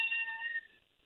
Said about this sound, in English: Oh, sorry, that's a cat.